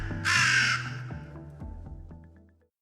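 A crow caws once, loud and close, then a series of softer trailing calls and knocks fade out over a couple of seconds.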